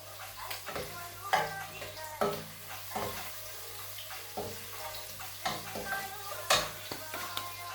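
Onion and parsley fry in a pan while a spoon stirs them, giving soft sizzling under repeated scraping knocks at an irregular rhythm, with a voice speaking at times.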